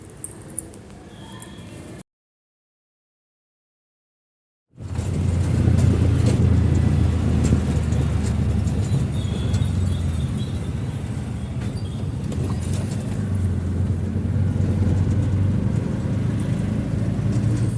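An auto rickshaw engine drones steadily during an evening ride, loud and close with road rumble, after a brief quieter passage and a short silent gap; no one speaks.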